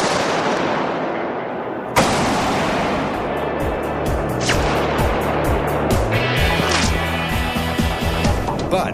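A fired bullet's gunshot at an outdoor range test: one abrupt loud report cuts through steady background noise, followed by lingering rumble and scattered mechanical clicks and tones, with no talking.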